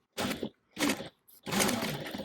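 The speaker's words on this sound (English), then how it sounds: "I'm going to fold it down and top stitch at 1/8 of an inch away from the fold that you just made" A sewing machine top stitching a fold of fabric for a beach bag, running in three close, steady bursts separated by short pauses.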